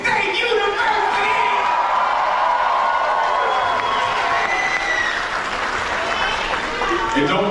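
A university audience in a packed hall claps and cheers loudly and steadily for several seconds, a dense wash of applause with whoops and shouts over it.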